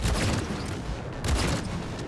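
Rapid bursts of gunfire in Cyberpunk 2077 crackle in quick succession, a dense rattling volley with punchy low thumps, loud and close, no talking.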